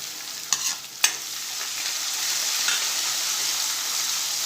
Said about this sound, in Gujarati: થોડું કેપ્સિકમને આપણે સાંતળી લઈશું એટલે એની કચાશ દૂર થઈ જાય।